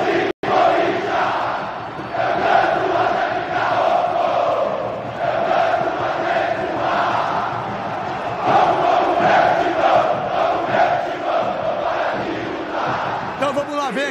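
Football fans chant in unison at a Corinthians–Palmeiras stadium match, played back on a TV broadcast as a dense, sustained roar of massed voices with steady rhythm.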